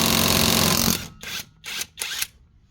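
An Alloyman 20v cordless impact wrench runs in its high setting with a loud continuous whir, then fires three short rattling bursts separated by brief pauses.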